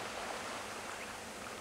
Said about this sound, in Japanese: 波の音がうるさい問題